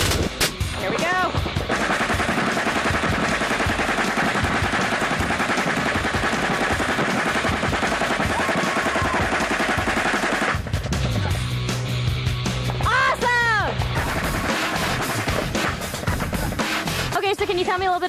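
A German MP5 submachine gun fires in dense, continuous bursts at a range, loud and close, with voices heard over the shooting.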